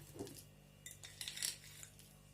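A spoon stirs stuffed-egg filling with mayonnaise in a dish, giving faint, quick scraping clinks against the bowl.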